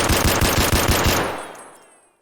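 Modded SKS rifle in Escape from Tarkov fires a fast string of about six loud, close shots in steady rhythm, then a reverberant tail fades to silence.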